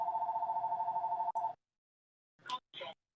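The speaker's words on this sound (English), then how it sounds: "My mom's going to answer her phone." A phone ringing indoors in a home kitchen, a steady electronic warble repeating rapidly for about a second and a half before cutting off, followed by a few brief rustling sounds.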